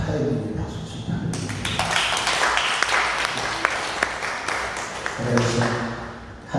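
A church congregation of over two thousand people bursts into applause after a voice speaks, the clapping swelling into a dense, sustained crackle before fading as speech returns.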